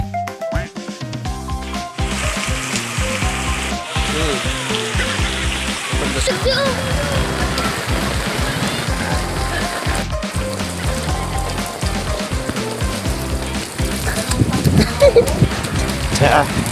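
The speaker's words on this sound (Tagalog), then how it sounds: "Malakas po ng ulan. Bahang-baha na po dito sa aming lugar." Heavy rain pours steadily throughout, a dense continuous patter with splashing on flooded ground, and music or voices faintly underneath.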